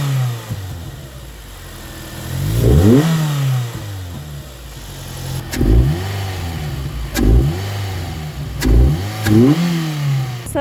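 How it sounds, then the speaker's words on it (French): Ford Fiesta ST engine fitted with a Mountune intake, revved from idle in a series of sharp blips, with one long rise and several quick bursts that fall back to a steady idle between them, loud and close. "pour faire écouter le bruit que ça fait avec l'admission"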